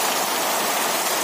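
Heavy rain pouring down in the Mandar area, a dense, steady hiss of downpour that stays loud and unbroken with no voices.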